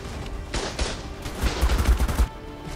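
Gunfire aimed at a giga in ARK: Survival Evolved: a few separate sharp shots early, then a rapid rattling volley of heavy bursts with deep thumps, close and loud.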